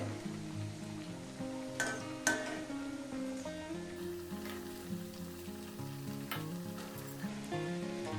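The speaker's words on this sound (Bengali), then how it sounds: "এরকম উল্টে পাল্টে গোল্ডেন কালার করে ভেজে নিতে হবে" Vegetable cutlets fry in hot oil as they are turned until golden, giving a soft, steady sizzle with a few sharper crackles, while music plays in the background.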